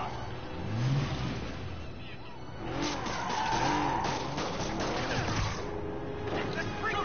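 Car chase in a Spider-Man video game, with engines revving and tires skidding and squealing continuously as vehicles swerve, while voices talk over the driving noise.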